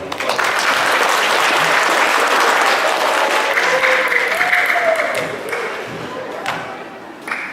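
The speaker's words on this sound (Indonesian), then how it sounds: "Kasih tepuk tangan." An audience at the closing ceremony of a provincial chess championship breaks into sustained applause, dense clapping filling the hall, gradually thinning with a voice briefly heard over it.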